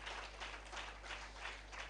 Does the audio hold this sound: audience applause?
yes